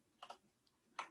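A few crisp keystrokes on a computer keyboard while typing a command in a terminal: three close, quick clicks in about a second, with no voices.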